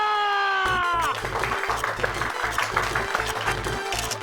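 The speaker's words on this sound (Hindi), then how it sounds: "तालियां" Studio audience applause at a comedy show, clapping that starts after a held musical chord fades and carries on steadily and moderately loud, with a rhythmic low beat pulsing underneath.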